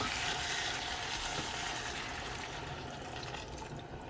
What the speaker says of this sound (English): I'm adding 1 cup of water so the beans can cook.